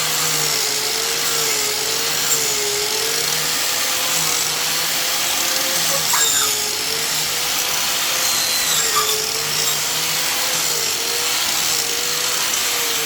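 A Bauer 6-tooth wood-shaping wheel on a 4.5 amp angle grinder cuts into wood, giving a steady high whine with a wavering tone and a continuous rasping grind, close and unbroken, with no voices.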